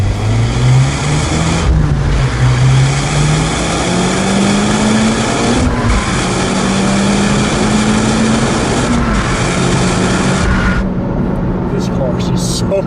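Mitsubishi Lancer Evolution Final Edition driven hard, its engine droning loudly up through the gears, pitch climbing steadily and dipping briefly with shifts, close and continuous under heavy road and wind noise.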